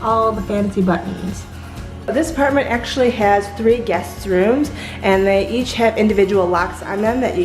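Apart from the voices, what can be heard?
None of the usual background noises is heard.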